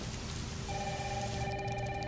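Heavy rain pours down in a steady, dense hiss that fills the whole stretch, while a faint electronic ring begins partway through.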